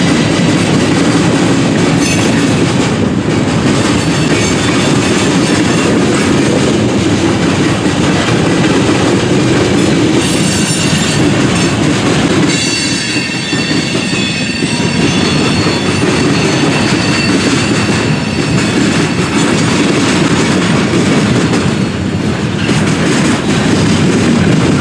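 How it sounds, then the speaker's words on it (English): A long freight train rolls steadily past, including a string of Chicago South Shore and South Bend steel coil cars, with loud continuous wheel rumble, rhythmic clickety-clack over rail joints and occasional high wheel squeal. "Near the rear of 26Z was a section of Chicago South Shore and South Bend steel coil cars"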